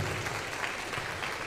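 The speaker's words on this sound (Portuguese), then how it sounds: "Pode aplaudir Jesus." A church congregation breaks into steady, continuous applause that fills the whole moment at an even level, with dense clapping and no voices standing out.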